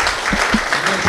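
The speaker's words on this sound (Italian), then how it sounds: "Facciamogli un grosso applauso." A futsal awards-day audience applauds in a dense, steady burst of clapping that is loud and close throughout this short moment.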